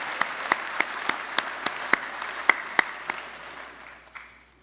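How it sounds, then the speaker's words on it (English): Graduates applauding at a Mohawk College convocation for the Marshall School of Skilled Trades and Apprenticeship, a burst of crowd clapping with several sharp individual claps standing out near the mic before it fades at the end. "Give yourselves a round of applause."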